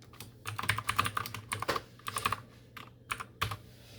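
Typing on a computer keyboard while setting up a Minecraft server on Windows, close and clear, with bursts of rapid keystrokes separated by short pauses.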